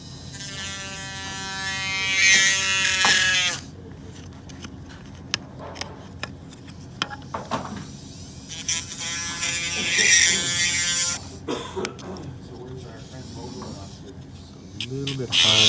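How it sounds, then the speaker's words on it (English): A dental-style handpiece fitted with a diamond disc cuts through plastic for a licence-plate tow hitch cutout on a Mercedes E350 coupe, giving a close, high-pitched grinding whine in two long bursts with quieter clatter and handling between them. "I'm using a handpiece to cut through the plastic with a diamond"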